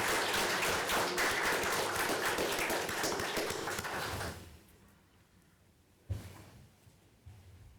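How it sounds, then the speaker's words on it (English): Applause for a man at a county council meeting, dense clapping from the room for about four seconds before fading to quiet murmurs with a couple of stray knocks. "let's give this man a round of applause"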